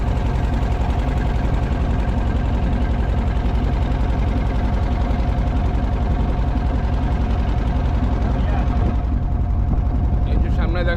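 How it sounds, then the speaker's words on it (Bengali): A fishing trawler engine drones and chugs steadily nearby on the Karnaphuli River, Chattogram, loud and continuous, with a faint voice toward the end. "এটা হলো ফিশিং বোট ফিশিং ট্রলার"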